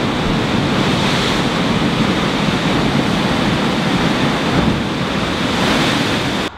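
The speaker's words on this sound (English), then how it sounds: "Devil's Churn, which is an inlet where the water just swishes all around" Ocean water surging and swishing around Devil's Churn, a narrow rocky inlet at Cape Perpetua on the Oregon coast, as a loud, steady roar of churning surf with wind buffeting the microphone.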